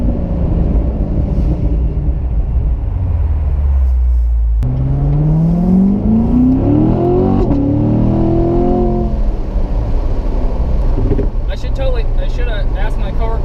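A car engine accelerates while driving, first a loud steady low rumble, then a rising revving pitch as it speeds up, settling into sustained loud road and engine noise close by.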